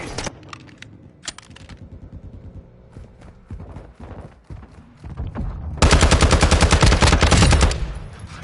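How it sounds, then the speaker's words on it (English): Gunfire in Modern Warfare 2, with scattered single shots and short bursts, then a loud sustained run of rapid automatic fire near the end, close and dominant. "That actually was some pretty decent, steady shooting"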